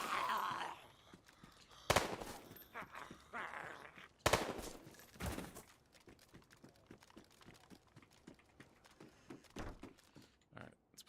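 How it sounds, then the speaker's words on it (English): Gunshots at a zombie in a video game: a handful of sharp, loud separate shots spaced a second or two apart, with quieter clicks and handling noises between them. "I'm shooting the zombie in the face."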